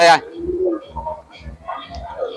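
Madras pigeons coo in soft, low repeated phrases at a sale in Nadia, after a short bright call at the start; the cooing runs steadily under background chatter.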